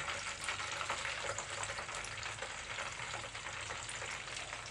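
Chicken pieces fry in oil over medium-low heat for a homemade chicken fry, giving a steady, dense sizzle that holds evenly throughout with no voices.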